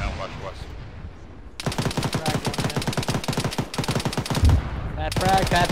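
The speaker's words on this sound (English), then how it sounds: "Heavy machine gun fire from the front." Heavy machine gun fire in the Arma military shooter: after a quieter opening, a sustained loud stream of rapid shots rattles on with a brief pause near the end, under faint radio-style voices.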